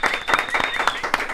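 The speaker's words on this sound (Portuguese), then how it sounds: "Palmas para nossa convidada, Djamila Ribeiro" A studio audience and hosts applaud a guest on a podcast, a short, lively burst of close hand claps with voices mixed in and a thin tone running underneath.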